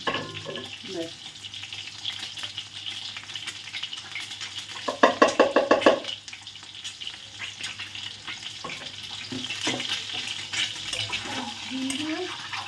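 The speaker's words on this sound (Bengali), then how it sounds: "চলো ডিমগুলো ভেজে তুলে নিলাম" Eggs frying in ghee in a pan with some water not yet cooked off, a steady sizzle and crackle that swells into a loud burst midway, with speech and utensil sounds over it.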